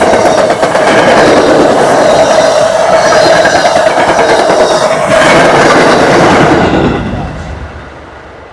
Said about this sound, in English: I think the train's about to roll by sooner or later. Oh shit, it's coming right behind me.